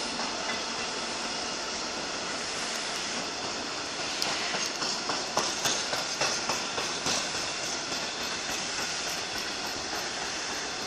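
A class 66 diesel locomotive, 66021, passes through Swindon station in Wiltshire with a loud, continuous rumbling roar and a run of regular rhythmic wheel clacks over the rail joints midway.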